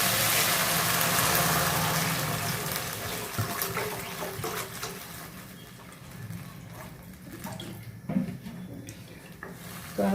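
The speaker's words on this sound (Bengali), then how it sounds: "তো আমি এখন জলটা দিয়ে দিচ্ছি।" Water pours from a vessel into a pan of momo Manchurian gravy, a continuous gushing splash that is loudest at the start and then thins into softer trickles and bubbling.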